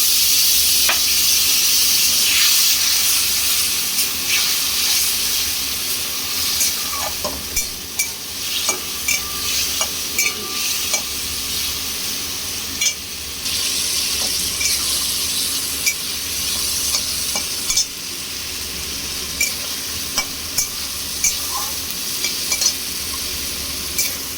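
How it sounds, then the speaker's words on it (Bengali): Spice-washing water goes into a pan of frying masala, setting off a loud, steady sizzle with hissing steam, while a utensil clinks and scrapes now and then as it is stirred. "মশলা ধোয়া জলটাও দিচ্ছি"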